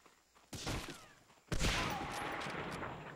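Two sharp gunshots from Medal of Honor Frontline crack about a second apart, the second one louder, each leaving a lingering rumbling tail behind it.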